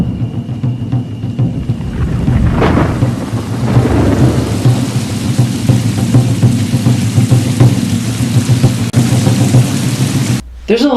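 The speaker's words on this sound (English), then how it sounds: "an awesome rain machine" A rain machine on the set of the 1995 ninja film The Hunted produces a heavy, steady downpour with deep rumbles of thunder rolling through it. The sound is loud and close and cuts off abruptly near the end.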